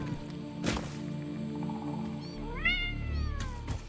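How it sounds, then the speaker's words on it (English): Meowing in Satisfactory from creatures that look like kittens but are actually spiders: rising, wavering cat cries in the second half over a steady game hum, with a couple of sharp clicks, no talking. "Those cat noises make your dog go crazy."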